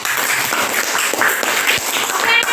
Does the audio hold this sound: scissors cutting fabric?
no